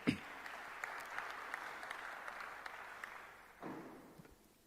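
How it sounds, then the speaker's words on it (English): An audience applauds at the close of a national dialogue on coalition government, a broad wash of clapping that swells after a sharp start, then fades as a second burst rises and tapers away. "A big round of applause for that."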